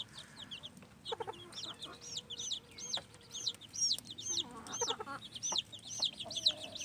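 Young Comet and Americana chicks in a backyard flock give repeated soft high peeps and clucks, with an adult hen's lower clucking mixed in, close by and fairly quiet outdoors in cold weather.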